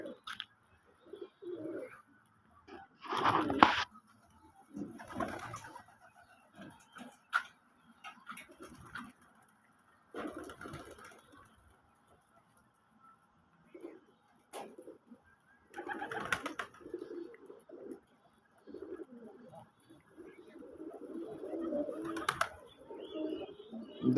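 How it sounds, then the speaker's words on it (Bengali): Pigeons coo in soft, intermittent bursts close by, with scattered ticks and light shuffles between calls in an otherwise quiet setting. "দেখেন এই যে কি সুন্দর কবুতর"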